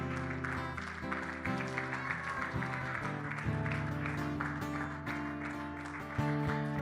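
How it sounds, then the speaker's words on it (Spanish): A church congregation claps over sustained instrumental music after a sermon, the crackling applause blending with steady tones at a moderate, even level. "De un aplauso a Jesús."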